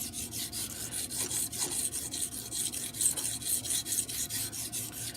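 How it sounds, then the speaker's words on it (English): A knife blade scraped in repeated short passes on a coarse sharpening stone, with the work focused near the tip; a steady, close rasping rub continues throughout with no talking. "little spot sharpening on the tip, and a couple more passes"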